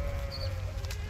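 A sheep bleats once in a pen with a wavering, nasal cry, heard close over a low rumbling background.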